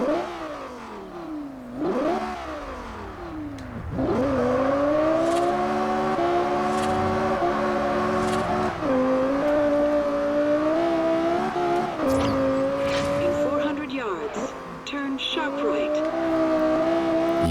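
A Lexus LFA in Forza Horizon revs hard through repeated rising gear sweeps, its high-pitched engine wail loud and close with brief drops at each shift.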